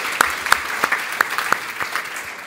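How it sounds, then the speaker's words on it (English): Audience applause at a head and neck cancer conference: a short burst of brisk, fairly even clapping from a crowd, moderately loud and close. "So a round of applause for those"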